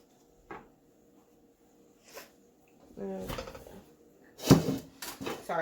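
Pots, pans and dishes clank and clatter while a kitchen is tidied during cooking, with scattered sharp clangs building to louder bursts near the end and a voice speaking between them.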